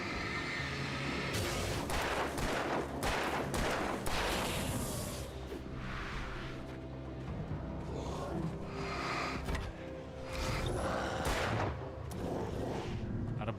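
Gunfire and booming blasts from the Alan Wake Remastered video game, a dense, continuous barrage of loud, overlapping shots and impacts with no speech.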